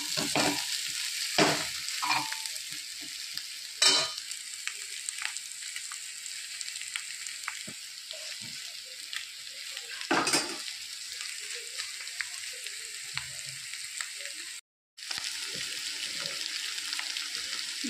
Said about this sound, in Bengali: ভালো করে আদা সমস্ত মশলা টশলা দিয়ে আমি কষিয়ে নিয়েছি